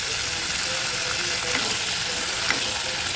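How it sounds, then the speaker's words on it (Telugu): Tomatoes frying in a pan for a Telangana brinjal curry, a steady close sizzle with faint stirring scrapes and a few small pops. "2 మినిట్స్ ఇలా వేగనియాల టమాటాని."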